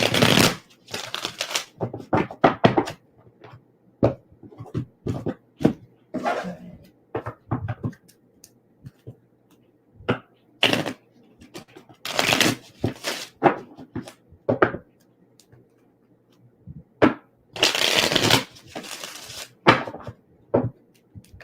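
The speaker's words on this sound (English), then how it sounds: "Just trying to get a good shuffle for you guys." Tarot cards are shuffled by hand in repeated crisp riffling bursts separated by short pauses, close and fairly loud, with no talking.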